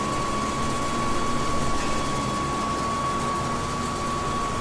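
A steady, loud cotton harvester engine drone with a high whining tone holds throughout, broad and unbroken like a jet-like roar, with no voices, in Farming Simulator 17.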